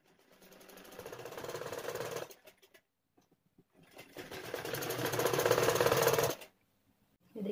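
Sewing machine stitching layers of fabric for a one-year-old's baby frock, running in two sustained bursts of whirring with a short pause between them, fairly close and without talk.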